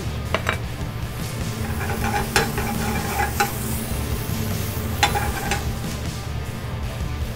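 Garlic and onion sizzle steadily in a hot pan, a continuous crackling fry with a spoon stirring and scraping against the pan and occasional sharper clinks of utensils on cookware, no talking.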